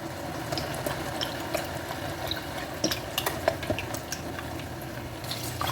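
Rice and chicken broth being stirred in a pot for yellow rice: soft scrapes and light clicks of a spoon over a low, steady bubbling hiss, fairly quiet and close.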